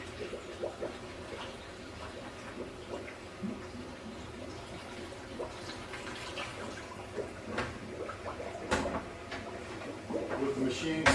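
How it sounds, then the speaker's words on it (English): Gallons of lukewarm water are dumped into the top of a SaniServ shake machine, giving irregular splashes, sloshes and clunks against a low hum, with some speech passing by in the background. "Next thing I'm going to do is dump a couple of gallons of lukewarm water into the top."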